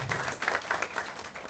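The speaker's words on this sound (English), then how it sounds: "So please have a big round of applause for yourself." Applause from an audience at a school or training event, a steady spatter of clapping held at moderate volume for a short burst with no one speaking.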